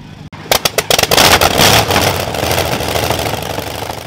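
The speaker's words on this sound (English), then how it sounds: "It's powered by a Liberty V12 aero engine" A 1926 land speed record car's Liberty V12 aero engine coughs and fires in sharp popping bursts, then catches into a loud, rough, rumbling roar that holds steady nearby.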